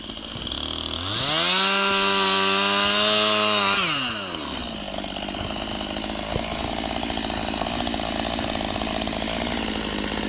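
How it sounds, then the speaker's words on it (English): A chainsaw cutting firewood outdoors revs up to a loud, steady high whine, then drops in pitch as it bites into the wood and keeps buzzing and chattering evenly at a lower, rougher tone. "She loves cutting firewood."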